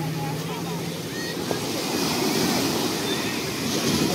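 Sea waves washing onto the shore at Vizag beach, a continuous surf roar mixed with wind buffeting the microphone, with voices faintly in the mix.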